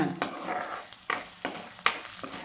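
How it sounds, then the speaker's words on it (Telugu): Garlic and dried red chillies fry in oil and give a soft sizzle. A few sharp strokes of a spoon stir the pan in an irregular rhythm, close and quiet. "ఎండుమిర్చి అనేది వెల్లుల్లిపాయ అనేది కొంచెం వేగింది ఎర్రగా రావాలి"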